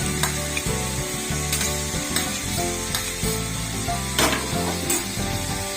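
Chopped tomatoes hit hot oil with fried ginger, onion and garlic for a prawn malaikari, giving a loud, continuous sizzle close by, broken by repeated metal scrapes and clanks of stirring.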